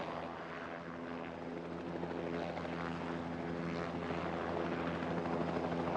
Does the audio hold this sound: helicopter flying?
yes